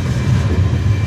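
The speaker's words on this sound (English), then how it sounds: "Now just wait for the train to stop finally and get down" A train rumbles steadily on the line from Fes to Marrakech as it slows toward a stop, with dense low-pitched noise heard from inside and no talk.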